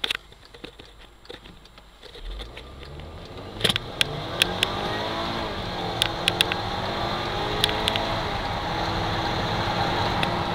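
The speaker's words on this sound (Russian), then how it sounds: "Разгон от 0 до 100." A chiptuned Volkswagen Tiguan 2.0 TSI, tuned to 240 hp and 350 Nm, launches from 0 to 100 km/h. Its engine note climbs steadily through the run inside the cabin, with a few sharp clicks and taps and no talking.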